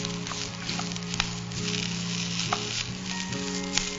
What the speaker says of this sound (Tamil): இந்த கருவேப்பிலை நல்லா கிறிஸ்பி ஆற வரைக்கும் நம்ம இதை ஃப்ரை பண்ணிக்கலாம்